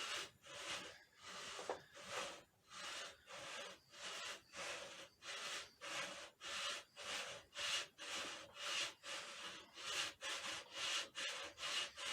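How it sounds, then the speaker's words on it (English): Sandpaper rubs back and forth inside the steel scope rings of a Ruger 10/22 bullpup rifle being lapped, a steady rhythmic rasping of about two strokes per second, close and continuous with no talk. "all we're doing is really just sanding down the inside of these rifle rings to make it grip on the scope a little bit better."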